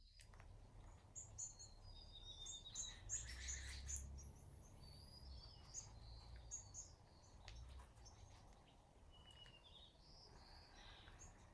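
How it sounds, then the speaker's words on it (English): Faint, high bird chirps and tweets come and go over a low, steady background rumble, scattered and distant. "noticing the sounds in the space, the birds chirping"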